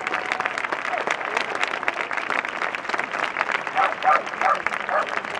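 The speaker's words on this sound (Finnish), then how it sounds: "Pyytäisin teitä kaikkia nousemaan vaikka ihan seisomaan antamaan oikein standing ovation-tyyppiset aplodit" Steady applause from a standing crowd honours Japanese horseback archers at a yabusame event in Helsinki, with scattered voices and a brief dog bark mixed into the clapping.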